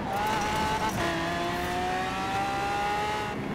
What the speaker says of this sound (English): So you can actually hear the car.